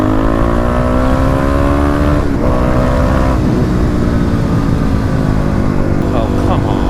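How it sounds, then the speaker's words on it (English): KLX351 dual-sport motorcycle engine at wide open throttle on the road, a loud steady drone with rising harmonics as it pulls, then settling, with wind and road noise throughout. "let's go ahead and test wide open throttle here, since that is what they're going to be doing on the dyno."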